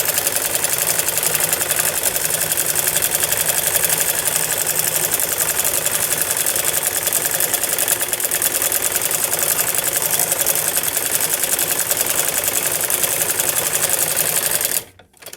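A sewing machine stitches a salwar in a long, steady, close rattling whir that runs unbroken for about fifteen seconds before halting abruptly.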